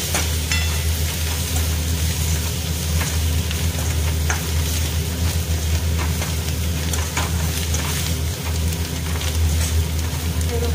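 Soybean chilli stirred in a pan after garam masala and chilli powder go in, a loud steady sizzle with scraping spoon strokes and a low hum underneath throughout.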